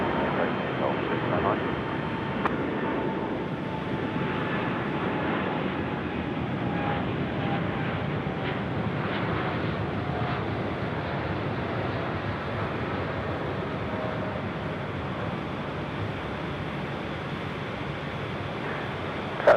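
A China Southern Boeing 787 taking off at night from Sydney Airport, heard as a steady distant jet roar that stays broad and even for nearly twenty seconds, with faint ambient noise around it.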